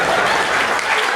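Steady, dense audience applause fills the short stretch, loud and continuous throughout with no gaps, coming from the crowd at a Tamil stage debate show.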